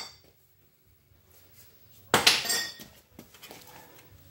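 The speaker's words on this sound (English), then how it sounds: "we're going to take our big hammer and just smack it right there" A big hammer strikes a front wheel bearing assembly on a Dodge Caliber, one sharp metallic whack followed by a brief ringing clatter and a couple of lighter knocks in a quiet garage.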